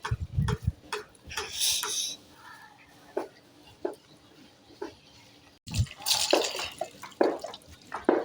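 Water pours and splashes while shampoo is rinsed off a dog during a bath on a hot rooftop, with irregular splashing and dripping bursts; people talk intermittently over the water.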